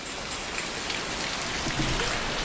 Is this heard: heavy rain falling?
yes